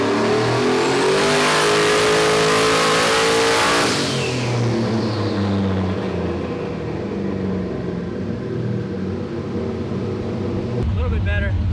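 A turbocharged LS V8 in a Foxbody Mustang is run hard on a dyno pull, a loud sustained engine roar that climbs in pitch for about four seconds, then falls away into a lower steady drone with a sharper burst at the end.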